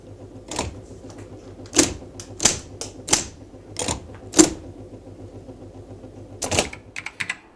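Typewriter keys struck one at a time in an irregular, unhurried rhythm, each sharp clack close and distinct against a quiet room, with a cluster of faster strokes near the end.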